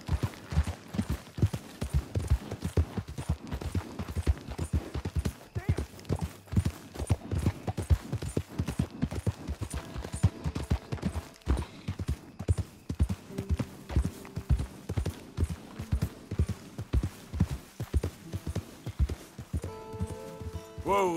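Horse hooves clip-clop steadily in Red Dead Redemption 2, a fast, even rhythmic trotting beat that runs throughout at moderate loudness, with a faint rider's voice and some game sounds toward the end.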